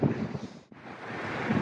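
Strong wind on a highway in Saudi Arabia roars as a dense, continuous buffeting rush against the microphone, with one brief dip before the gust surges back.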